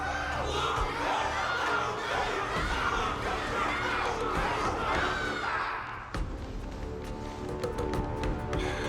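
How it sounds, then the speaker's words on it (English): Large crowd cheering and shouting in Honkai: Star Rail after a wardance battle, a dense, loud roar of many voices that continues steadily and then drops to a thinner, busier murmur near the end. "Everyone's cheering for you, Luka!"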